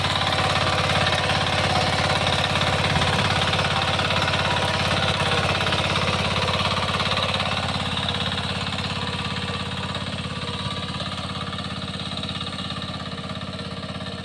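A Power Rider 186 heavy duty tiller engine runs close by with a loud, steady, throbbing mechanical drone that eases slightly toward the end, with no talking.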